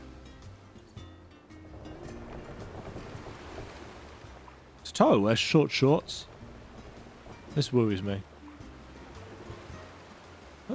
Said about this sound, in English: Oh, nice ocean sounds.